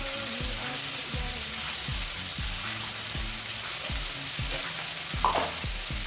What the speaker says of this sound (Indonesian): Kita tuang ke dalam wajan, lalu kita aduk-aduk sampai merata.